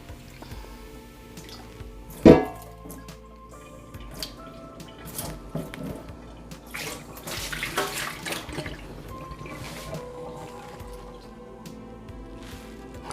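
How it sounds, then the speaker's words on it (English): Water is poured out of a de Buyer carbon steel pan into a sink, with splashing, trickling and dripping sounds, a sharp clank of the pan early on, and faint rushing water throughout. "So let me discard this water."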